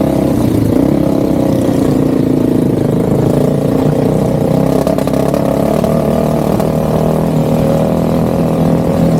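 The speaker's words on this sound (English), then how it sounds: "you could hear the engine breaking up a little bit when I gave it throttle" A steady mini bike engine drones continuously at close range, its tone slightly rough and uneven under load as it breaks up under throttle, with no voices.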